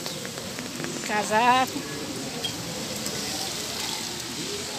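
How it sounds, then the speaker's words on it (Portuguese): Heavy rain falls steadily in a town street, a dense hiss throughout, with a person speaking briefly over the downpour. "E tá chovendo bastante"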